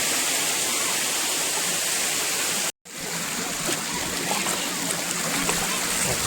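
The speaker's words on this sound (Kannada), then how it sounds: "ಈಗ ನೋಡಿ ನೀರು ಯಾವ ಥರ ಬರ್ತಿದೆ ಅಂತ." A stream swollen after rain rushes steadily and loudly nearby as one continuous roar of water, cut by a single brief dropout.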